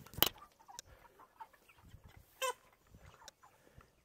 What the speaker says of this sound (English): Impending chicken doom.